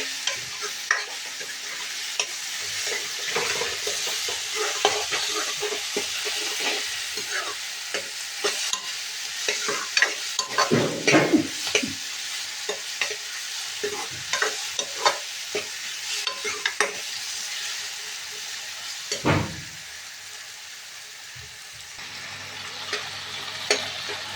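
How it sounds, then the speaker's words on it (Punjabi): Spices sizzle and fry in hot tempering oil for a Punjabi saag, a steady close crackle with frequent stirring scrapes and clinks throughout, no talking. "ਸਾਡਾ ਤੜਕਾ ਹੋ ਗਿਆ ਹੈ ਤਿਆਰ"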